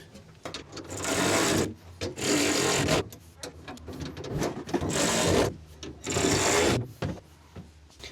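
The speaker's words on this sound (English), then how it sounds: "And that, guys, is all 4 M6s ratcheted into place." A ratchet tightens M6 bolts on a Jeep cargo deck, producing close, loud bursts of rapid clicking in rhythmic runs of about a second each, separated by short pauses.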